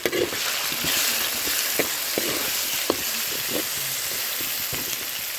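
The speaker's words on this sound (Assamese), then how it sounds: "তাৰপিছত এতিয়া মই ভালকৈ ভাজি ল'ম।" Potatoes fry with salt and turmeric in hot oil, giving a dense, steady sizzle with a few soft stirring clicks, close and continuous throughout.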